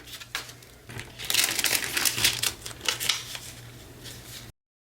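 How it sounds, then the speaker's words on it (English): Junk mail envelope paper torn by hand along the edge of its window, a run of crisp rasping rips and crinkles lasting a few seconds, close and fairly loud with no talking. "I'm just gonna rip where the envelope ends, or where the window ends."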